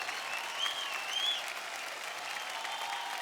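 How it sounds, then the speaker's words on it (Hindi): Enthusiastic studio audience applause after a fantastic act on a televised talent show, sustained even clapping at moderate level with faint cheering whistles early on. "तालियां रुकनी नहीं चाहिए।"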